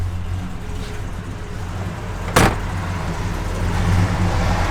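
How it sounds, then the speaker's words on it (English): A 1965 Mercury Comet Caliente convertible's engine idles with a low, steady rumble, broken by a sharp click, then swells slightly in a gentle rev near the end. "Just give it a little rev, Mike."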